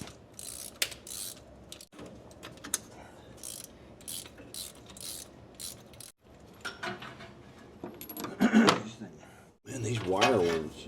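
A ratchet clicks in quick bursts while spark plugs are loosened from a 1950 Cadillac engine that sat for 42 years, with metallic clinks and handling noises between, and someone talking at times.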